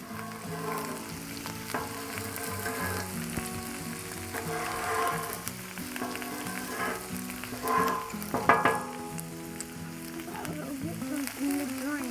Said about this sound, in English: Let's move these onions over here in this bacon grease.